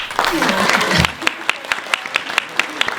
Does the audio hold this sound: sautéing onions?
no